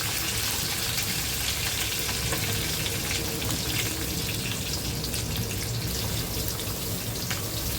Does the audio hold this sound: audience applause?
no